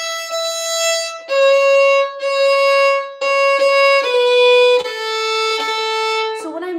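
Fiddle slowly playing the first phrase of the folk tune The Fox, clear sustained bowed notes in a simple melody, close and alone.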